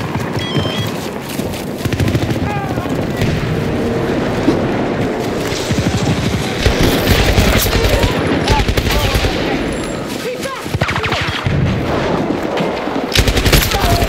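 An M240B machine gun fires in Battlefield 2042 in sustained loud bursts amid a dense wash of battlefield gunfire, explosions and rumble, with no clear talking.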